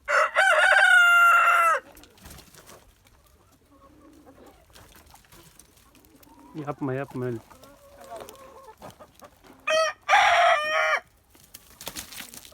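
A rooster crows loudly twice, at the start and near the end, with hens clucking in between and a person laughing and speaking briefly.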